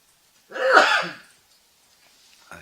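A single sharp sneeze from a lecturer bursts out close and loud, then fades into near silence.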